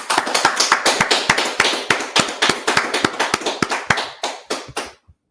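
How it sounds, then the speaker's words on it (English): An audience claps along in a steady, fairly loud rhythm at a Wednesday night scripture gathering of a Washington DC congregation, sharp hand slaps repeating quickly for about five seconds before stopping abruptly. "let's clap it up"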